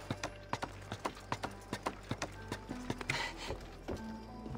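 Horse hooves clip-clopping at a steady galloping rhythm in the game Assassin's Creed Odyssey, moderately close and even, with a faint ambient bed and no talk over it.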